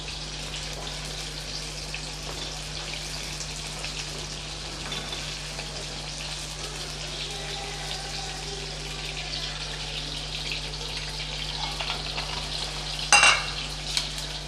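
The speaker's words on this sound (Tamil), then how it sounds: "நல்லா சேர்த்து வதக்கி விட்டுறலாம்." Dried red chillies sautéing in hot oil for a fenugreek kuzhambu: a steady, close sizzle and crackle runs throughout at an even level, with a brief louder scrape of stirring near the end and no voices.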